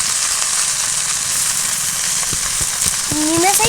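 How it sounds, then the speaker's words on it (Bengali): Chopped shushni saak greens frying in oil in a kadai give a steady, loud, broadband sizzle throughout, with a few crackles and pops near the end. "শাক ভাজার জন্য কড়াইতে তেল দিয়ে দিলাম শাকগুলো দিয়ে দেবো"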